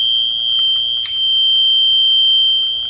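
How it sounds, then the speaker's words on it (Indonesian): Earthquake detection system alarm going off as a solenoid opens, a steady loud electronic tone with a strong high pitch held throughout, plus a brief burst of noise near the middle. "Bisa dilihat gempa sangat kuat, solenoid langsung terbuka dan alarm langsung hidup"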